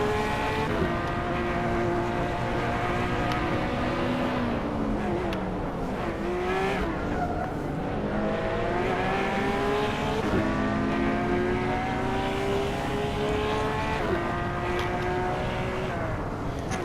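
Race cars in a Hot Wheels video game roar past in a continuous loud engine drone, with pitch rising and falling as they accelerate and shift.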